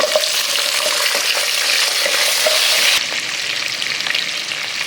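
Shallots tossed into hot oil with curry leaves for a tamarind-based vathal kuzhambu, a loud, continuous crackling sizzle close up that drops slightly partway through as the pan settles.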